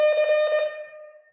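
Morse code letter C at 20 words per minute: a steady electronic buzz-tone with a few rapid pulses blended together, loud at first then fading out over about a second.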